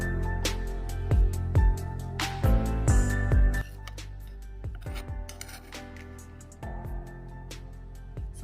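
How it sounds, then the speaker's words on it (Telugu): Yogurt and a glass of water whisked together in a glass for a cooling buttermilk drink, a run of quick, scraping rasps and light clinks of the whisk against the glass, close and steady with short pauses. "దీన్ని చక్కగా విస్క్ చేసుకోవాలి"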